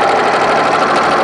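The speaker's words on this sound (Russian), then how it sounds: "шью по лицевой стороне" Steady, loud whir of a sewing machine running continuously as it stitches along the right side of boxer shorts fabric, a dense, even mechanical hum with no pauses.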